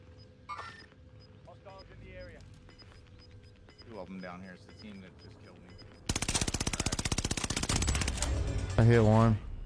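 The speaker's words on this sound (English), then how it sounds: "He's shooting at you." Rapid automatic gunfire from a video game bursts in loudly partway through, a dense fast rattle over quieter game ambience, with players talking before and over it.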